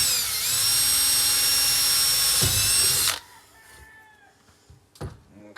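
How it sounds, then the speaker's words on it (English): A power drill whirs loud and steady for about three seconds and then stops, leaving quiet handling knocks during work on a packable bow saw. "while we got the drill out and that bit in there"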